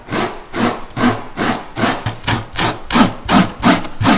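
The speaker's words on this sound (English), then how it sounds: "in this instance just a bread knife will work well. I take the worst off with this" A bread knife sawing through a foam bulkhead saddle, with loud, close rhythmic strokes roughly every half second, each a rasping scrape, repeated about nine times with nothing else heard.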